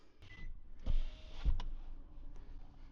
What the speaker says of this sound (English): Front window works.